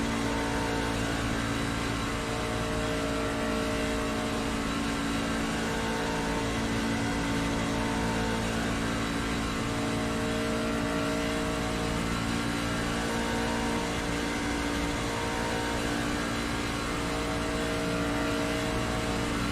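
Race car engines in the iRacing sim drone steadily and loudly throughout, a dense sustained mechanical hum with no pauses or talk.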